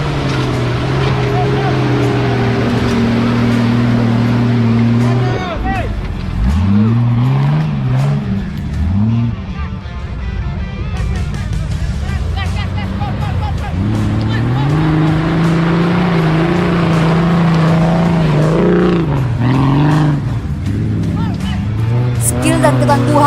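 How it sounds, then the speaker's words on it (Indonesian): Off-road cars tackle mud pools, small cliffs and obstacles beside a river at a competition in Gorontalo. Loud engines rev and labor continuously, rising and falling, beneath steady Indonesian narration. "Dengan ketangguhan, mobil dituntut untuk bisa melewati obstacle tersebut."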